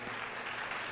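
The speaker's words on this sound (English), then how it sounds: "We want to give you another round of applause for all of our partners that are here." Brief burst of audience applause for business and community partners at a school district strategic plan presentation, a dense, steady clapping held at even volume throughout the short moment.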